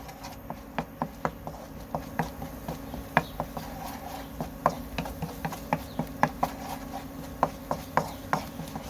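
Steady patter of rain with irregular sharp drips and taps landing nearby, scattered throughout over a soft constant background, at a field hut by rice paddies.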